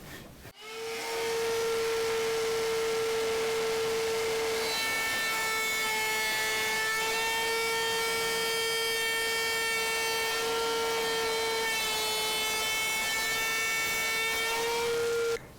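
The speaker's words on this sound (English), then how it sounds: "Bring the router up to required height and proceed to cut the template." A router spins up and cuts a corner radius template from 3/8 inch plywood, a steady loud whine with strong tonal harmonics running continuously after a brief start, alone with no talk.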